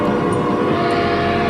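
A Conrail locomotive moves along the track through a forest, a brief, steady, loud rumble with a faint tonal horn-like edge.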